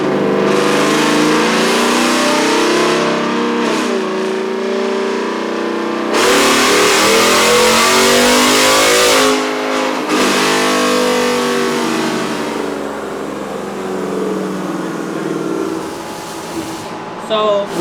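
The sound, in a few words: Modded 2021 Ford F-150 engine revving in fourth gear on a dyno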